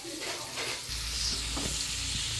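Steak cooks slowly in a pan with thyme and parsley leaves, a close, steady sizzling hiss with a low rumble underneath and faint stirring ticks throughout.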